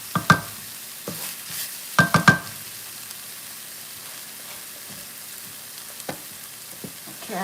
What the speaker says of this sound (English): Then I will put in the rice and I'll do the eggs